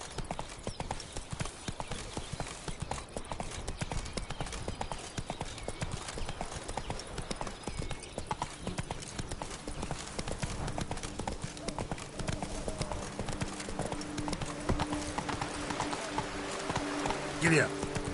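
Horse hooves clip-clop at a steady gallop in The Witcher 3, continuous and fairly close throughout, with an occasional whinny and a voice speaking over them.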